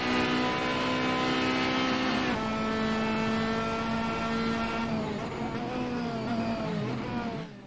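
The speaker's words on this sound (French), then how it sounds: "je vous invite vraiment à télécharger cette Ginetta. Elle fait un son génial." A Ginetta G55 GT3 race car engine in Assetto Corsa revs loud and close, holding a steady high note, shifting abruptly, then rising and falling through gear changes, with no talking over it.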